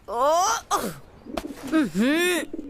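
A cartoon pigeon gives a few warbling coos and moaning calls in short, rising and falling bursts, close and clear, apparently voiced by a performer imitating the bird.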